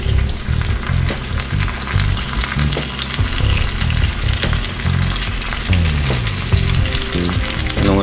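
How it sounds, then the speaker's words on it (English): Pasta folded into zucchini in a hot pan, loud continuous frying and sizzling close up, with utensil scrapes and stirring rhythm throughout. "I'm gonna mix the pasta in there with the zucchini"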